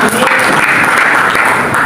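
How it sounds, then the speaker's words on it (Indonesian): Congregation applause during a church sermon at a fasting prayer service, a dense, steady wash of clapping lasting about two seconds, close and loud throughout. "Berikan tepuk tangan bagi Haleluya"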